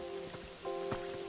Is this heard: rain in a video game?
yes